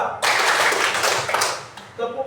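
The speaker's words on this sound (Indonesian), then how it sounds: "Tepuk 1, tepuk 2, tepuk 3, tepuk 4," A classroom of students claps together in a counted pattern, a dense burst of many hands striking at once that fills most of the stretch before a teacher's voice returns briefly near the end.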